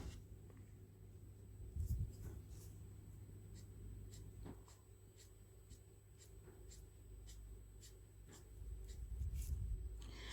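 Gossip alcohol marker pens colouring hair on paper, faint quiet scratchy strokes repeating at an uneven pace, close up, with no one speaking.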